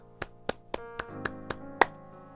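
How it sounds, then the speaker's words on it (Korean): Isolated claps at a Korean reporters' corps completion ceremony congratulating award-winning reporters, seven distinct claps at a steady pace over soft musical tones, fairly faint and slightly distant. "우수기자 수상자들과 기자단에게 축하의 박수를 보내드립니다."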